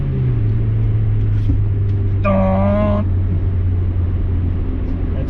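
A Honda Civic budget build with a VTEC engine rumbles along at low speed, with a steady low drone and a brief higher whining tone rising over it near the middle; no talk.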